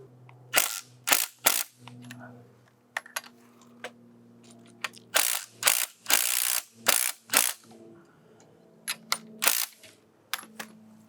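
A ratchet tightens the upper strut nut on a BMW E46 front suspension, with bursts of sharp metallic clicking and brief pauses between pulls, close and loud.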